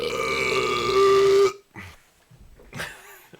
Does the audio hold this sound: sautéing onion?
no